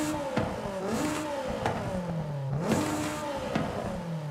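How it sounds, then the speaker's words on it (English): A car with a stock turbo in Forza Horizon 5 revs repeatedly, engine pitch climbing and falling in several rising sweeps with clattering shifts, steady and fairly close with no talk. "Let's listen to the stock turbo first."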